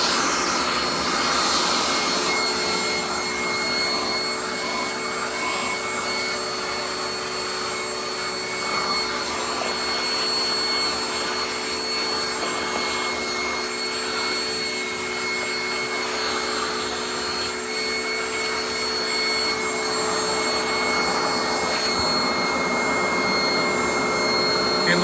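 A Garry Ultralight GL100 upright vacuum cleaner, an Oreck XL knockoff, runs steadily with a loud, continuous motor whine and airflow roar, close by and unbroken throughout.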